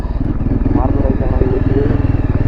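Motorcycle on an off-road track, its engine chugging loud and close in a steady pulsing rhythm under a rough mechanical clatter.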